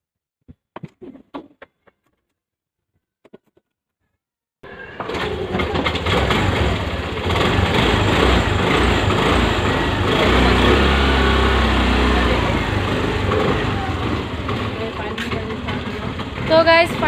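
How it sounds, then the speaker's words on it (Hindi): A Honda Activa 125 scooter kickstarted on a cold day catches after a few clicks and settles into a loud, steady, buzzy idle that runs close by for over ten seconds. "फाइनली स्टार्ट हो गया हमारा स्कूटी"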